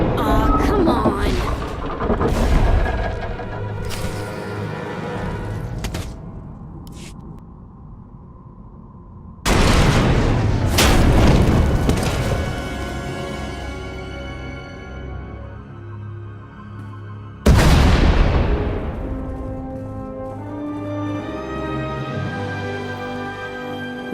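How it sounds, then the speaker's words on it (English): Explosions in the video game Star Wars: The Old Republic, several sudden loud booming blasts that decay into rumbling debris and crackle, with the biggest hits landing about ten and eighteen seconds in, and no speech. "We heard explosions."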